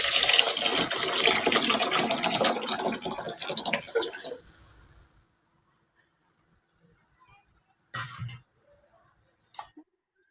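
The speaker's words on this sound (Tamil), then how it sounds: "தண்ணி அதை எடுத்து ஊற்றிடலாம்." Water pours and splashes steadily into a pot for fish curry for several seconds, then stops, followed by a couple of brief clinks in the quiet.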